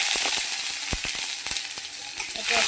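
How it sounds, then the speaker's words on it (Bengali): Tomato frying in hot oil with whole cumin seeds and bay leaf, a close steady sizzle broken by sharp spatters and crackles, heard alone without talking. "এটা একটু ভাজা হলে আমি ডালটা দিয়ে দেবো।"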